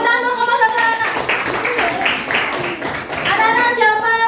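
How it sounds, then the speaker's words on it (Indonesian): Schoolchildren in a classroom clap for a group after its presentation, a dense burst of many small hands in the middle, framed by an adult voice talking at the start and end. "tepuk tangan dong kelompok 1 anak"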